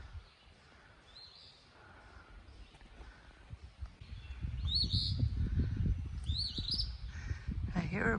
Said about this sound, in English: I hear a bird, I don't know what it is.